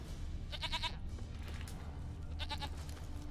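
Goat bleating in the video game The Witcher 3, two quick bursts of wavering bleats a couple of seconds apart over a low ambient background.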